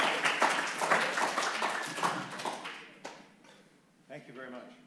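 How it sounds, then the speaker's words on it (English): Applause from a seated audience at a lecture on building resilience for communities and infrastructure, a moderate wash of clapping that fades over several seconds, with a voice speaking over it toward the end. "I'm going to give you a round of applause just to get anybody going"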